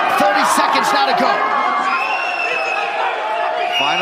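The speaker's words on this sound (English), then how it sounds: "Pro Ige crowd trying to will him on." A UFC Fight Night crowd roars and whoops in support of Dan Ige during his fight with Movsar Evloev, a loud, dense wall of cheering and yelling that holds for the whole stretch while a commentator talks over it.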